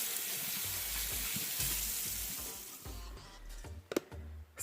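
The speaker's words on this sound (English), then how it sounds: "So let's rinse off." Water splashing and running as a face is rinsed off after washing with a skincare cleanser, a steady close wash of water for several seconds that thins out into a few sharper splashes and drips near the end.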